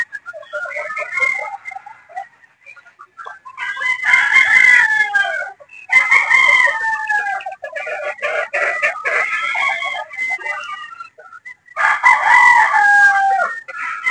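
Boston Roundhead gamefowl roosters crow loudly and close in several long bursts, with clucking and chattering between the crows and no talk.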